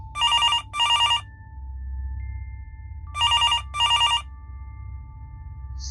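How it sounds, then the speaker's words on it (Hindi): A home telephone rings with two paired bursts of crisp trilling, a gap between them, over a quiet low rumble. "घर का टेलीफोन बजा।"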